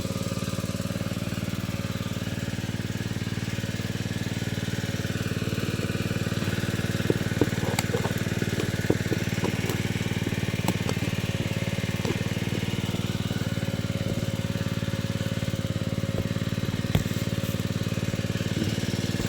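An engine-driven water pump runs steadily beside a rice field, its loud, constant mid-pitched drone and rattle holding for the whole stretch, with occasional sharper clicks and knocks.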